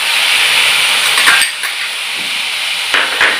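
Tomatoes hit a hot pan for masala green beans, giving a loud, steady hiss of sizzling with a few brief clinks of a utensil against the pan.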